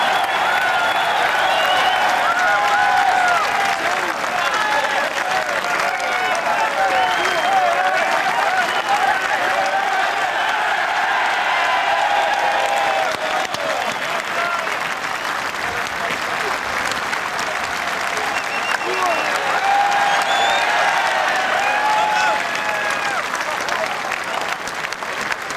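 A big racecourse crowd at the 2003 Cheltenham Gold Cup applauds and cheers as Best Mate is led into the winner's enclosure: dense, sustained clapping roars steadily throughout, with a commentator's voice running underneath.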